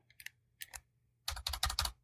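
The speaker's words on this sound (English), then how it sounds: "Right, I'm pressing keys, nothing's happening." Keys pressed on a computer keyboard in short clicky clusters, a few sparse taps and then a quick run of close, crisp keystrokes with no talk.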